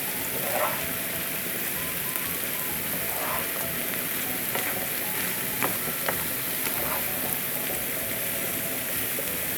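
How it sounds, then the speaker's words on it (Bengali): Mixed vegetables being stirred with turmeric powder in a hot pan, a steady hiss and crackle of frying with scattered light scraping taps throughout, close and continuous, with no talking. "লাস্ট আমি হলুদের গুঁড়ো দিচ্ছি এবার এটাকে মিক্স করতে হবে"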